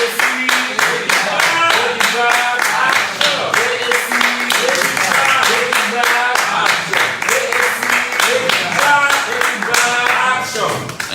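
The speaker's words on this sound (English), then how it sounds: "Please give him a round of applause." An audience claps through a live broadcast announcement in steady, rhythmic, closely spaced claps that sound like unison clapping, with some voices mixed in.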